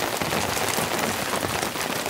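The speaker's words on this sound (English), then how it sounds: "So it's just been continual deluge like this" Relentless heavy rain drums on a camping tent in a rainstorm, a loud, dense, unbroken patter filling the space with no voices.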